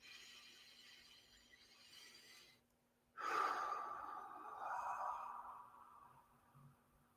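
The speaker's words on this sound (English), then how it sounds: "Let's take in 3 deep breaths." One slow, deep breath during a guided breathing exercise, drawn in through the nose and then let out through the mouth in a long, soft exhale, close to the microphone in a quiet room.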